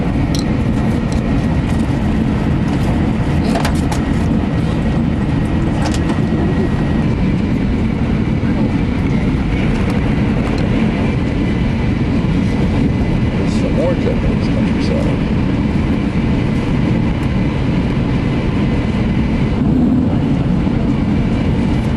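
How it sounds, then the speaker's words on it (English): Interior of a very fast, smooth high-speed train in Japan while riding, a constant loud rumbling roar with faint rhythmic rail clicks, steady throughout with a voice talking over it. "This is the fastest train I've ever been on."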